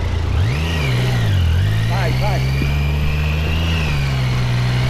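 A Honda XR 250 Tornado motorcycle engine revs up and then holds a steady, loud drone nearby on an off-road trail, with voices in the background.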